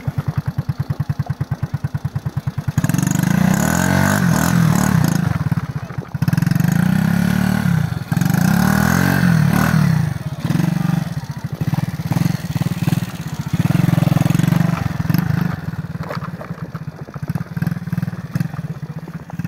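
A small Cub-style motorcycle engine riding through snow, with a steady mid-pitched engine drone that rises and falls as the throttle changes, loud and close throughout.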